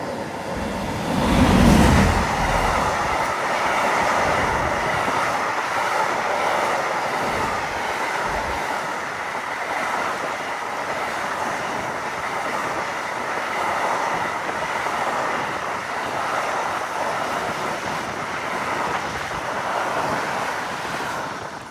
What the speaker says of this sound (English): Here's a BR-187 Bombardier Trucks pulling a mixed freight train.